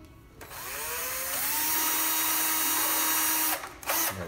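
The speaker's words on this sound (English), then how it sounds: "Just drill a really small one, just enough to kind of center it on for the screws to go through." A power drill bores a small, shallow pilot hole to center screws, its motor whine rising in pitch and holding steady for several seconds up close before briefly cutting out and starting again.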